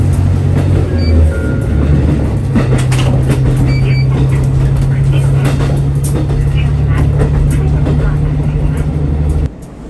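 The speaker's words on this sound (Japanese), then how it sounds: "列車は東釧路駅に到着です。" A local train pulling into Higashi-Kushiro station in Kushiro, Hokkaido, on the Senmō line junction, with a steady low rumble and a sustained motor hum that cuts off near the end.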